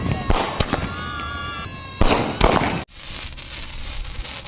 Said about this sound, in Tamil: பட்டாசு வெடிக்கும்போது யோசிச்சு யோசிச்சு வெடிக்கிற